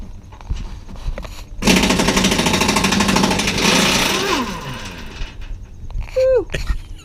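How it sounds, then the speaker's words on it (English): An air wrench working on stuck bolts while a sway bar is fitted to a Toyota Tundra TRD: a loud, rapid hammering burst lasting a few seconds that tapers off, followed by short, sharp rattling hits. "We sprayed some WD-40 type stuff to loosen them up, but the air wrench still struggled a bit."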